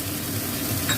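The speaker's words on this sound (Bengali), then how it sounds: "পেঁয়াজটা এরকম হালকা করে ভাজতে হবে" Onions frying lightly in a pan while being stirred, a steady close sizzle with soft scraping, no voices.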